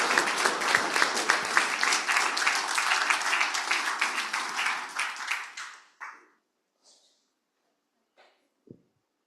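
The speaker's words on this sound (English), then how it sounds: "I think you should all have a round of applause because you've all been fantastic." A conference audience at a patient day gives a round of applause that is dense and sustained for several seconds, then thins out and stops, leaving a few isolated claps.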